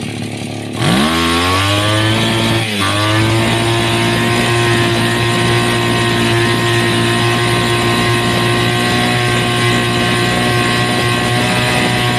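A chainsaw engine being revved during carburetor tuning starts abruptly, jumps in pitch, dips briefly, then holds a loud, steady high-rev whine up close for the rest of the clip.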